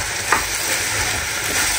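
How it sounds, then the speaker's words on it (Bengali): Rice fries in a pan while being stirred, a steady close sizzle with a scrape of the spoon near the start, heard alone. "চালটা ভালোভাবে ভাজা হয়ে গেছে"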